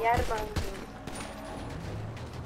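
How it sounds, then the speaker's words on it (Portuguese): Gunfire in a video game: a burst of rapid shots, loud and close at the start, then continuing more densely in the background while someone talks over it. "Eles deram tiro, deram tiro."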